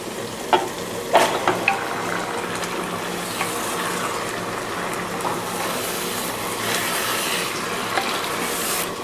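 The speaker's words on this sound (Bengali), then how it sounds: "মশলাগুলোর সাথে মাংসটাকে খুব ভালোভাবে মিশিয়ে দিলাম" Two kilograms of meat being stirred and frying with ground spices in a pot, with a continuous sizzle broken by scraping stirs and a few sharp clinks of a utensil near the start, no voices.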